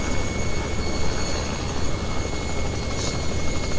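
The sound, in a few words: Robinson R66 turbine helicopter in flight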